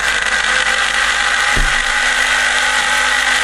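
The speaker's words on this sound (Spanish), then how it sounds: "Esta bomba veremos que el sonido es diferente. Esta es de lavadora." Faulty washing machine drain pump running on a test bench, a loud, steady, high-pitched whirring whine with a brief low thump near the middle, no voices.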